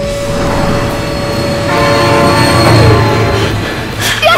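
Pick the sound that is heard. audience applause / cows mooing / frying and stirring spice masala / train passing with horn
train passing with horn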